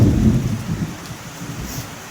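A cloudburst of heavy rain pours down as a low thunder rumble rolls and fades in a brief, loud burst, with no voices.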